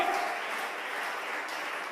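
A church congregation applauds steadily during a sermon, a dense wash of clapping from many hands that holds at an even level throughout, with a faint tone near the start.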